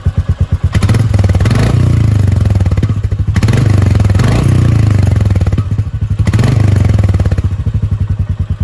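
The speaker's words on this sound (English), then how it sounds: "if you want to hear the exhaust note" A Bajaj NS200 or Royal Enfield Meteor 350 motorcycle engine idles close by with a deep, pulsing exhaust note, rising in a few brief revs before settling back.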